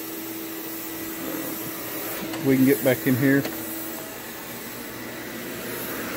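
A vacuum cleaner with a straight wand hums steadily throughout while cleaning along edges in a janitorial account, with someone speaking briefly over it midway.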